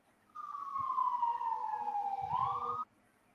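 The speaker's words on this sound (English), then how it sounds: "I hear the siren." An emergency vehicle siren wails in a single long falling tone that rises again near the end, loud and clear for a few seconds against a quiet background, with no talking.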